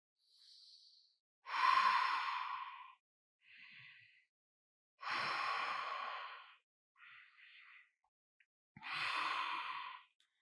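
Three slow, deep breaths from a hatha yoga session, each a long, airy exhale of a couple of seconds following a quieter inhale. They are close and calm, with silence between them.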